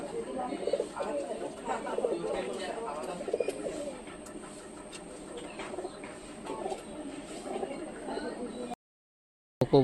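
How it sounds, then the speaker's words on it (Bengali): Giribaz pigeons take off and coo outdoors, soft repeated cooing and fluttering heard faintly under a person talking through most of the clip. "কবুতরগুলো দেখতে দেখতে কত সুন্দরভাবে উঠতেছে"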